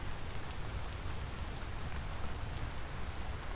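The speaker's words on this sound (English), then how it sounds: "And it's still fucking raining." Steady rain falling on a surface at an early-morning outdoor smoking setup, a continuous dense hiss without pause, moderately loud and alone with no voices.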